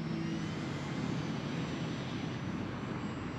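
Radio-controlled bush plane in flight with its motor throttled back, a faint, steady, even drone with no voices.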